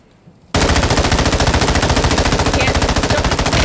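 Rapid, continuous video-game gunfire, a loud burst of automatic shots starting abruptly after a brief quiet moment and hammering on steadily to the end.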